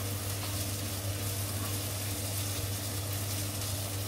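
Two chopped onions fry in a pan with a steady, close hiss of sizzling oil that holds at an even level throughout, over a low constant hum.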